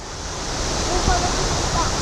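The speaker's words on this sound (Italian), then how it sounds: "che belle cascate anche qua" Steady broadband rush of a waterfall at Fontanone di Goriuda near Chiusaforte, a continuous outdoor roar with no breaks, fairly loud and close throughout.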